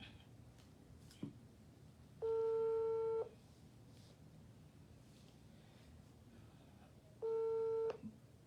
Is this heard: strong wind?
no